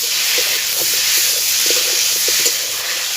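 Fish and taro curry sizzles in spices in a pan, a continuous bright hissing spatter with faint stirring knocks, close and steady throughout, no one talking.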